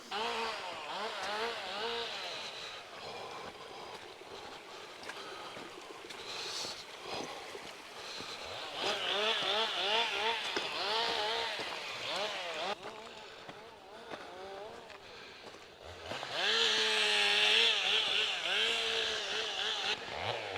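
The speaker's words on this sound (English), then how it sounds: "Nothing like the sound of chainsaws to enhance your walk in the woods." Chainsaws whine and rev in the distance in woods on Ben Venue, their pitch rising and falling in bursts with a steady rushing background.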